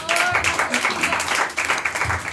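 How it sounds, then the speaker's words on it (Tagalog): A church congregation claps along during a Sunday morning worship service, with the hands keeping up a steady clatter for a couple of seconds while voices carry on over it. "Lahat ng masaya ay pumalakpak sa Panginoon"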